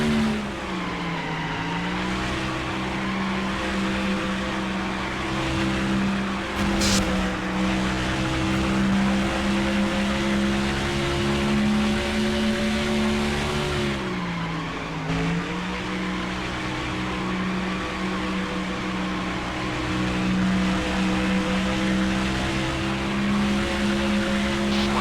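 Race car engines in NASCAR Thunder 2004 drone loud and steady, with a sustained engine note that dips twice as the car lifts and then pulls back up to speed.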